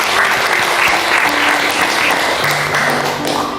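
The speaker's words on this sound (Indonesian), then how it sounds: "Tepuk tangan untuk" Dense, loud applause from an indoor audience cheering the SMK Nasional Malang volleyball team, a steady roar of clapping close by, with no talking over it.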